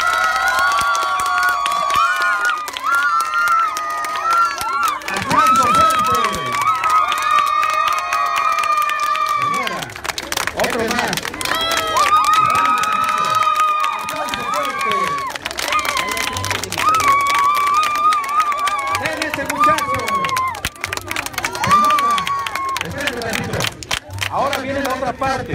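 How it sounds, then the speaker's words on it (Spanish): At an outdoor community event in Zimapán, a large crowd cheers and claps continuously, with children's shouts and whistles rising over the steady roar of applause. "¡Aplauso fuerte!"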